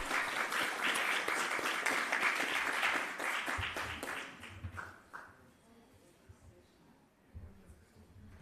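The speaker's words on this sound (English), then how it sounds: "we just want to have another round of applause for 2 excellent presentations" A round of applause fills a virtual national health research conference, dense clapping for several seconds that thins out and fades, followed by a voice speaking quietly.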